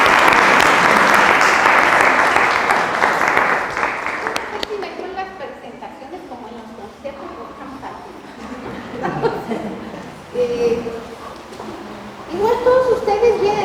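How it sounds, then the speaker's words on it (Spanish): Audience at a talk on data fusion and insecurity breaks into loud, dense applause that fades after a few seconds into scattered claps, chuckles and murmuring voices. "Vamos a recibirlos con un fuerte aplauso"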